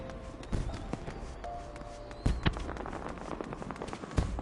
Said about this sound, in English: we hit the fireworks, we know what that was